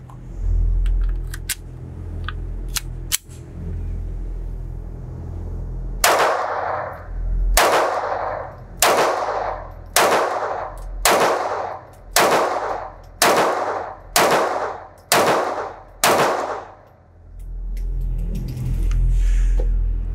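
A Browning Black Label 1911 pistol chambered in .22LR fires ten sharp, evenly spaced shots outdoors at a shooting range, each crack close and loud, after a few scattered clicks and handling noises.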